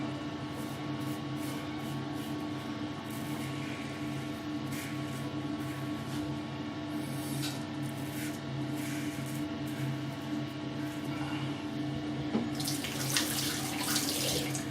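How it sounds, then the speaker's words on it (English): Tap water runs steadily into a sink, a continuous close splashing flow that swells into a louder hiss near the end. "Just empty the sink and give it a flush"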